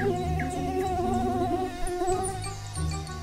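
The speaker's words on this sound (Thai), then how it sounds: "เด็กสาวได้ยินเสียงยุงบินมาแต่ไกล" A mosquito flying close by, a thin high whining buzz that wavers steadily in pitch and holds without a break.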